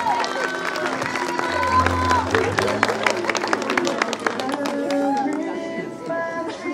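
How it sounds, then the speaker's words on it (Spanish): Wedding guests in Cusco, Peru applaud and cheer for the bride in a steady, moderately loud wash of clapping, mixed with crowd chatter and background music. "Damas y caballeros, fuertes aplausos para Claudia, fuertes aplausos para ella."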